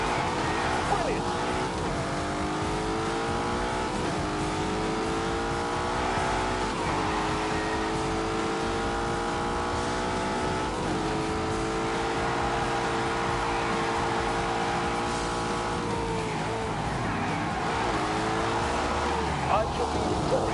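A Porsche 911 Carrera racing in a PS4 video game, its engine note climbing and falling steadily through gear changes with a constant droning roar, a voice talking over it.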